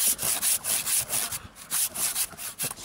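A hand saw cuts through the wood of a large tree in steady, rhythmic back-and-forth strokes, close and clear, with a brief pause midway.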